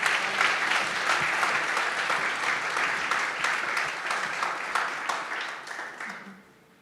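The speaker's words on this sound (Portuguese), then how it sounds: "Se você crê nisso, aplauda o Senhor Jesus." A church congregation applauds steadily in a dense wash of clapping that holds for about six seconds, then fades quickly to quiet at the end.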